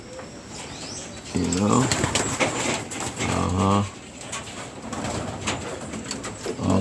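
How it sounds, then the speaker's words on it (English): Male pigeons coo in bursts during their mating display on a homestead, with a low burbling rhythm and some wing flapping, close and fairly loud, while a person talks intermittently. "you guys can hear them as the cocks doing their little mating dance thingy"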